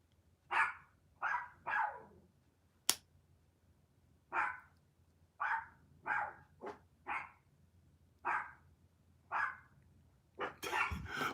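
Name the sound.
dogs barking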